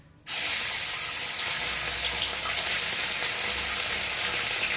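Khoira fish dropped into hot oil in a wok, bursting into a loud, dense, close sizzle that starts abruptly and holds steady without any talking.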